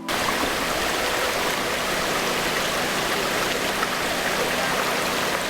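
A steady, close rush of falling water from a small waterfall in Scotland pours without pause, a constant splashing roar filling the whole stretch.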